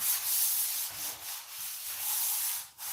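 Sandpaper rubbed lightly by hand over wood filler, a steady soft scratchy rasp in several short back-and-forth strokes, fairly close and alone.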